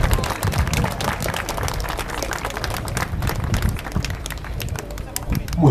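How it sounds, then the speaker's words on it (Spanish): An audience at a regional street parade breaks into strong, sustained applause, a dense crackle of many hands clapping under a speaking voice. "Fuertes aplausos."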